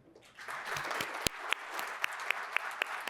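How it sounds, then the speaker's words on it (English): Audience applause at a higher-education conference, a steady wash of many hands clapping with a few sharper claps standing out near the front. "And I want you to give them all a round of applause."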